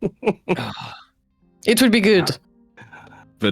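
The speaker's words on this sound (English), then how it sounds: "I will be coughing this whole time." A woman clears her throat and coughs harshly, her voice strained from weeks of coughing, between bursts of her own speech; close and loud.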